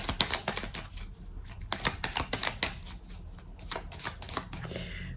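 Tarot cards being shuffled and drawn at close range, a series of quick riffling bursts and crisp card flicks in irregular clusters, with no voice over them.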